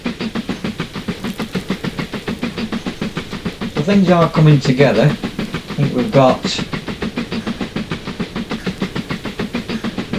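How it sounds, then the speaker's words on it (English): A train in the railway-building game Mashinky rolls along with a steady rhythmic clickety-clack of wheels on rail joints, under someone talking over it throughout. "We've got a train in the background."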